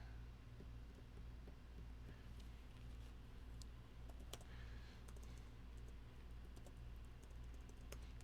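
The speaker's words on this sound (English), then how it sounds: "Typing's hard." Fast, irregular clicks of typing on a computer keyboard, close by and fairly quiet over a steady low hum, with no talk.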